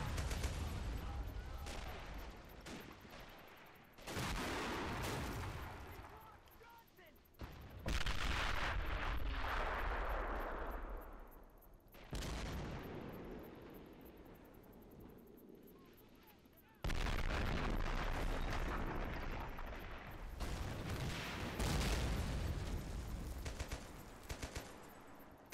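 Booming French artillery gun in a video game siege battle fires repeatedly, each heavy blast cutting in with a long rumbling decay, amid dense battlefield gunfire, with some voice beneath.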